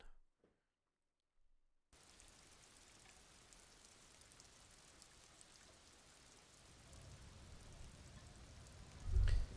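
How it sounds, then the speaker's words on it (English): Steady rain falls in the video game Disco Elysium, a soft continuous hiss of drops with a heavier low rumble swelling near the end, no voices over it. "It's rain."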